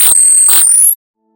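A hand-drawn smiley face converted into sound produces harsh, high-pitched static, with a thin rising whistle and two quick bursts lasting about a second before cutting abruptly to silence.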